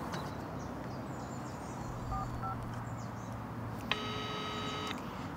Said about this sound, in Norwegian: Ja, jeg ringer Hanna først.